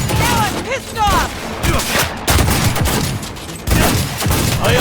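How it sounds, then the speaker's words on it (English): Gunfire in the video game Cyberpunk 2077 during an intense shootout: loud, rapid bursts and volleys of shots in quick succession with brief pauses, close and dense, with voices speaking over the firing. "I am taking fire!"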